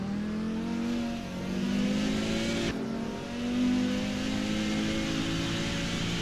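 An Audi 90 race car engine held at full throttle in a racing game on a circuit, roaring steadily and loudly with a rising whine, dipping briefly at a shift before climbing again, with no talk.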